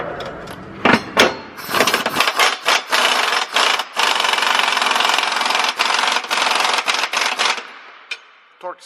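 Impact wrench rattling in repeated bursts as it snugs 24mm subframe brace bolts on an S550 Mustang, loud and close with short pauses between hits.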